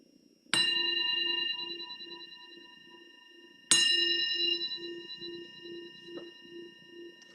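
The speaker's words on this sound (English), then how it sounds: "So the bell invites us to bring the awareness back to the surface again." Two clear strikes of a meditation bell, each ringing out with a bright attack and a long, slowly fading shimmer; a soft low hum continues underneath.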